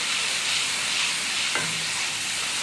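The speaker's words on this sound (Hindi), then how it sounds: "मिक्स करेंगे अच्छे तरीके से" Tomato and green chili paste stirred into chicken frying in a pan, a steady close hiss and sizzle with faint scraping throughout, no talk.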